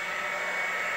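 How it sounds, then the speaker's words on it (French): A hair dryer blows steadily on its cold setting while leather car seats are being stained and varnished, giving a constant, even rushing whoosh with a motor whine and no pauses. "Je prends le sèche-cheveux. Hop, je l'allume."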